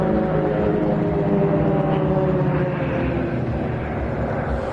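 Aerobatic aircraft at the Saudi GA Airshow 2025 cross each other a few meters apart in a knife-edge pass, a loud, sustained droning engine roar with a faintly wavering pitch as they go by.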